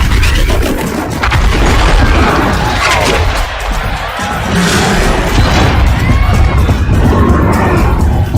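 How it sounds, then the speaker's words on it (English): In the Horizon Zero Dawn video game, a platform comes down after its supporting pillar is destroyed, giving a loud, sustained rumbling crash with heavy booms that fill the whole stretch. "One more pillar and that platform will come down."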